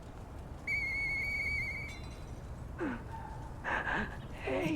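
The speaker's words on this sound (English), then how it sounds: "Hey, that sound. Is that you, Murphy? I know that whistle." A clear sustained whistle rings out in the video game Lies of P, one long steady tone of about a second over a low ambient hum, followed by someone talking nearby.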